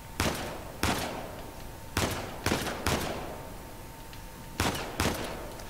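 Gunfire in the video game Uncharted 4: A Thief's End, about seven sharp loud shots spaced irregularly, each with a short decaying tail, with a faint steady hum underneath.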